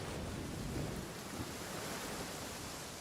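Steady rain in the video game Genshin Impact, a dense continuous hiss with a low rumbling wash beneath, even and moderately faint throughout with no voices.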